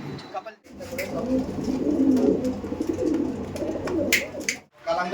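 Mangalagiri pigeons, a pair of Kalanka birds, coo softly in a low, rolling murmur that runs steadily under someone talking over them.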